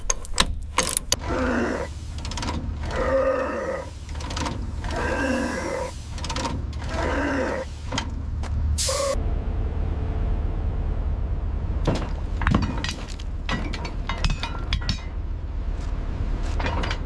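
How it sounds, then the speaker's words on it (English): A rusty part on an old abandoned train squeaks and creaks under a hydraulic puller, with a series of sharp metallic squeals and clanks over a steady low mechanical hum, up close. "Hear that squeak? That's the sound of 17 years of rust finally letting go."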